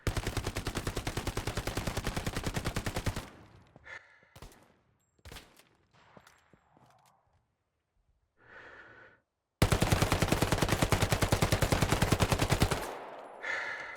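MP40 and Thompson submachine guns firing in the video game Hell Let Loose: two long, loud automatic bursts of rapid, evenly spaced shots, separated by a quieter stretch of faint clicks and handling noises.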